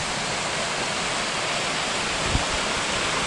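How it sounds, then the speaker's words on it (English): Bass Creek's small waterfall rushing steadily, a dense unbroken roar of falling water heard close up, with one brief thump near the end and no voices. "Cool little waterfall or creek."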